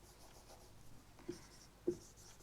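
Pen or pencil writing numbers by hand during a maths lesson on arithmetic progressions, faint scratchy strokes with two soft taps, close and quiet in a still room.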